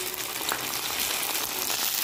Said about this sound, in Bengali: তেলটা গরম হয়ে গেছে, ঢ্যাঁড়সটা দিয়ে দেবো।